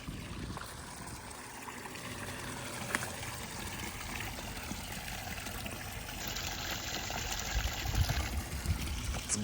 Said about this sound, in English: The pond's going now too.